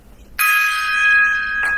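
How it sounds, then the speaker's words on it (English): A single struck gong rings out with a bright metallic attack and a steady shimmering sustain, close and loud, followed by a second light strike near the end. "the gong."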